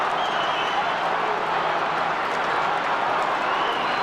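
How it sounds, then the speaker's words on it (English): A dense, roaring football crowd fills a stadium in Adelaide during a 1994 semi-final between the Adelaide Crows and Collingwood, a steady, loud wash of cheering with no break throughout. "Crowd roaring here."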